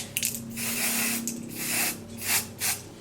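Colored hair spray hisses onto the transparent lace of a 24-inch lace front wig in a few short, close bursts, one after another, with no talking.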